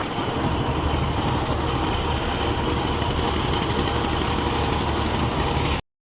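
A crane engine idles steadily beside a harbour at Mangrol, ready to lift a fishing boat. The droning rumble is loud, close and constant, then cuts off abruptly at the end.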